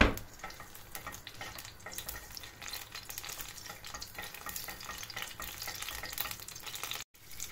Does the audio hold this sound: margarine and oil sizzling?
yes